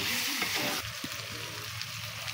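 Ground spice paste of nutmeg, mace, black pepper and black cumin fries in a pan with a steady, close sizzle and a soft stir midway, continuous with no voices.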